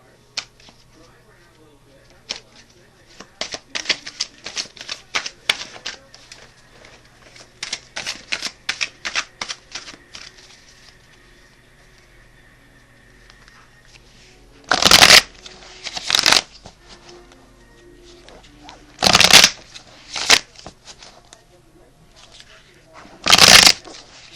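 Tarot clarifier cards are shuffled by hand in quick riffling bursts, first in a run of soft flicks and then in several louder, longer riffles with short pauses between them.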